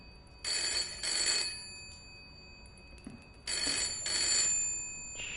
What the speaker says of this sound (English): Shut up and pick up the dang phone.